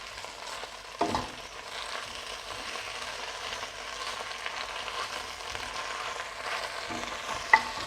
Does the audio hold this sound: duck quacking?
no